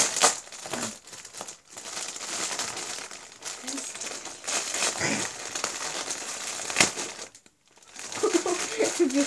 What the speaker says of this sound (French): Je vais mieux éclater le papier bleu.